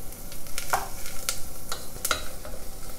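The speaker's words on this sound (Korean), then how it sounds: "코코넛 오일과 양파 얇게 채친 거를 지금 충분히 볶아주고 있는데요." Thinly sliced onions sauté in coconut oil for a Korean-style vegan curry, a continuous close sizzle with a few scraping strokes of a stirring utensil.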